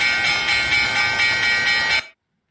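A bell sound effect played on a sports betting show, a bright sustained metallic ringing that pulses rhythmically for about two seconds and then cuts off abruptly into silence, with no talking.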